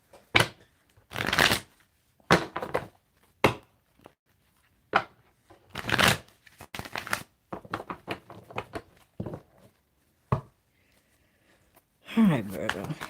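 Tarot cards being shuffled by hand during a reading, repeated riffling bursts of a second or so separated by pauses, close and crisp.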